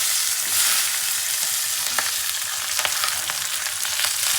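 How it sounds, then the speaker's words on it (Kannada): Indian pennywort (ondelaga) leaves and tamarind fry in a pan with a continuous bright sizzle and crackle, broken by brief stirring clicks and pops, close and loud throughout, with no voices. "ಇದು ಒಂದೆಲಗ ಹಾಕಿ ಈಗ ಫ್ರೈ ಮಾಡ್ಕೋಬೇಕು ನೀಟಾಗಿ"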